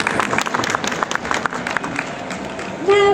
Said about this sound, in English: Come on, a round of applause, guys, come on.